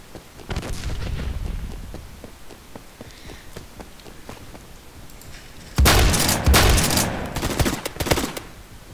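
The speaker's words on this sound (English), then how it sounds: "Going to put a grenade over there." Gunfire and a heavy blast from a grenade going off in the Roblox shooter Phantom Forces: a burst of shots early, quieter stretch, then a loud booming explosion with rumbling aftermath and further shots.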